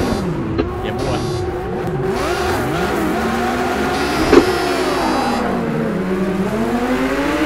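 Several race cars in Project Cars 2 rev and accelerate together off the start, engine notes rising and sliding in pitch close by, with a short sharp knock midway and speech over the engine noise.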